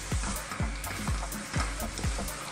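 Canned red kidney beans going into a sizzling pot of beef chili con carne: steady loud frying hiss with soft thumping stirs or drops repeating about twice a second, close up.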